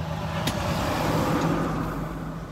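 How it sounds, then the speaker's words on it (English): Steady street traffic noise: a continuous rumble of passing cars and vehicles close by, fairly loud and unbroken, with no voices. "There's some traffic today here."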